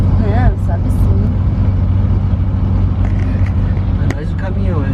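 A heavy truck engine droning on a steep, hard border road, a loud continuous low rumble throughout, close by, with people talking over it.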